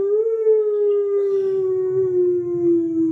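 A human voice imitating a wolf's howl at a school mimicry competition: one long, steady, drawn-out tone gently falling in pitch, close and loud, with faint background noise.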